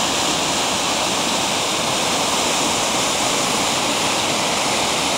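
Yarmouth Falls roars as a steady, dense rush of falling water, loud and close, with no pauses or change throughout and no voices.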